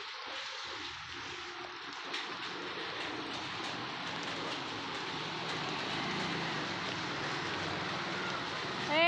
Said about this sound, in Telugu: సో వర్షం పడుతుంది ఫ్రెండ్స్, మీకు కనిపిస్తున్నాయా చినుకులు?